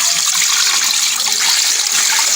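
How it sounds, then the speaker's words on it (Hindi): Water pours steadily into a pressure cooker holding mutton trotters, a continuous close gushing splash with no break and no talking. "इसमें 6 कप मैं पानी ऐड करूंगी।"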